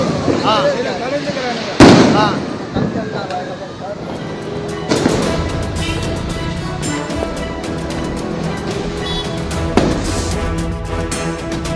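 Loud firecracker bangs burst out at a school, one big crack early and several more scattered through, over a constant din of nearby voices.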